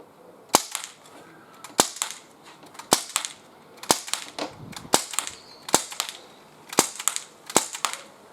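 A Gamo MP-9 air pistol fires eight sharp, close cracks outdoors, each shot separated by roughly a second in a quick, slightly uneven rhythm, with quiet pauses between.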